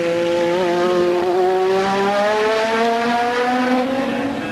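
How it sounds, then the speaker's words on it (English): Stefan Johansson's Ferrari Formula 1 car screams past loud and close during 1986 British Grand Prix practice, its high engine note rising and then dropping in pitch as it goes by, with no talk. "Now, this is Stefan Johansson, the Swedish Ferrari driver."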